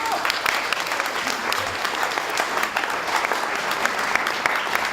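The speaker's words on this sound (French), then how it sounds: "Alors, donnez l'applaudissement." Steady, dense applause from an audience at an award ceremony honouring videographers, sustained and even for the whole stretch with no break.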